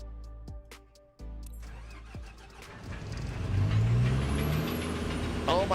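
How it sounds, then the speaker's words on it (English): A loud generator hums at an airport gate in a flight simulator game, a rising, droning engine-like roar that swells and holds steady after a few sharp tonal sweeps at the start. "we've got a loud generator there"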